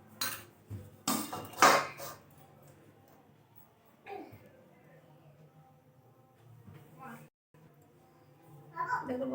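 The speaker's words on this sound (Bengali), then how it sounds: "তো তাই একটু থালাটা ধুয়ে নিচ্ছি।" A metal plate being rinsed and handled in a home kitchen while making colourful luchi, with a few loud clanks and scrapes of metal early on, then quieter scattered knocks and splashes, with a voice talking at times.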